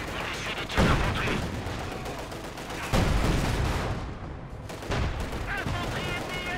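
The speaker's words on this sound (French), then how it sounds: "On essuie des tirs d'infanterie" Infantry gunfire from the World War II strategy game Company of Heroes 2, Eastern Front battle at Brody: bursts of rifle and machine-gun fire crackle repeatedly, with several sharp louder volleys amid continuous battle noise.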